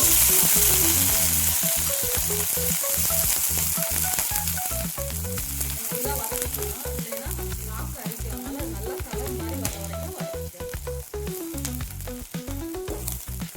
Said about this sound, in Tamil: இதை சுத்தம் பண்ணி கழுவி வச்சுருக்க பிரண்டையை சேர்த்து வதக்கி எடுத்துக்குவோம்